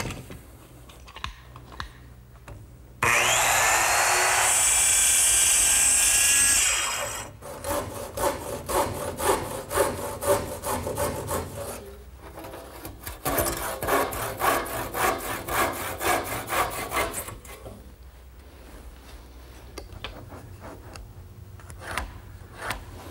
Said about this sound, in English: which actually guides the base of my little circular saw, and now I'll just cut the angles freehand